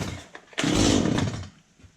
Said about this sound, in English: pull it a couple times till it cracks off.